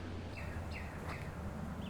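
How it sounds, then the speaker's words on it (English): Birds chirping faintly at a quiet lakeside, Lake Williams in York County, with a few thin calls rising above a low steady background hum, no voices. "If you're really quiet, you'll hear the birds."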